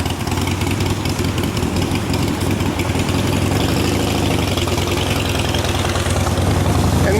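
A motorcycle engine idles on the Manhan Trail, a steady, loud low rumble that holds unbroken throughout with no pauses.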